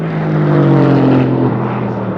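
An Aston Martin with an AMG-derived 4-liter V8 drives fast past on a race track, its loud, close engine note holding steady and then dropping in pitch as it passes.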